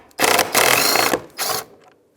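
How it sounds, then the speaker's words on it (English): Ratchet or tool loosening 10mm nuts on a 2007-2015 Mazda CX-9 window regulator inside the door panel, three loud, close mechanical whirring bursts separated by short pauses. "remove these two 10mm bolts, which will separate our regulator from the inside of this panel"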